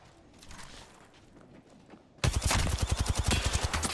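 Enemy gunfire in a shield-based shooter video game: after a quiet stretch, loud rapid automatic shots erupt suddenly and keep up as a steady, rhythmic burst of fire.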